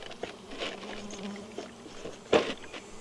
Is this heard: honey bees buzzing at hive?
yes